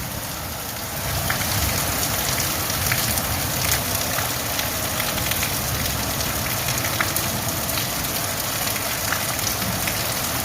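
Heavy rain pours steadily outside a window, a dense, continuous hiss and patter with scattered drips, no voices, holding at an even loudness throughout.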